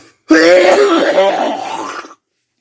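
Coughing after smoking, a single harsh, raspy throat-clearing burst that rolls on for nearly two seconds, close and loud, with no speech over it.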